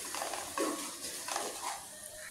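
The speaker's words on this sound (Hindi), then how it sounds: "अब इन तमाम मसालों को भूनती हूँ कुछ टाइम तक।" Spices for moong dal, including dried coriander and salt, are stirred in a pan: soft scraping strokes of a spoon against metal come in a few quiet bursts, with faint sizzling underneath.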